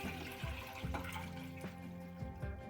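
Water and soaked brown top millet are poured into a pan, a soft splashing trickle with a few gentle clinks, fairly quiet and close.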